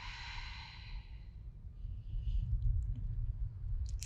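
A long, audible exhale during a yoga pose starts strong and fades over about a second and a half, followed by quieter breathing, faint clicks and low room rumble, with no speech.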